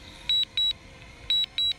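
DJI Mavic Air drone sounding its critically low battery warning: four sharp, high electronic beeps in two pairs, close and clear over faint background hiss.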